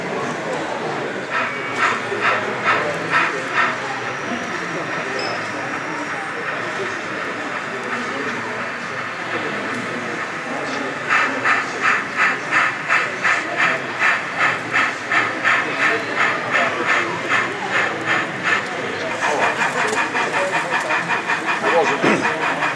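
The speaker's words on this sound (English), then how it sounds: "Motor luggage van coming, John." Model railway motor luggage van running past on an exhibition layout, a steady rhythmic clatter of wheels that swells into a louder pulsing run partway through, with people chatting over a busy hall background.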